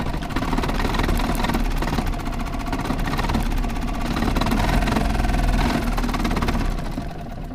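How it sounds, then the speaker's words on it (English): A boat motor idles steadily and close by, a continuous even drone with no voices, just before it is put in gear on a boat whose lower end turns out to be faulty. "It's running smooth. Sounds perfect. Put it in gear."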